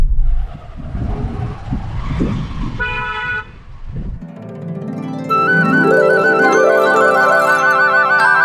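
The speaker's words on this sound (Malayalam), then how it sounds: "ഒരു കാറ്" A car passes on a road at Landour with a rough engine rush, followed by a chorus of sharp, sustained horn toots that ring out loudly near the listener.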